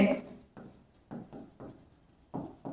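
Pen or pencil writing out the answer to a class 5 percentage math problem, a series of short scratchy strokes in quick bursts, close and fairly quiet.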